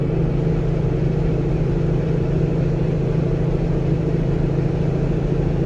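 A truck engine pulls steadily uphill in 9th gear at about 1500 RPM on the I-80 freeway climb, giving a constant low drone with road noise and no change in pitch throughout.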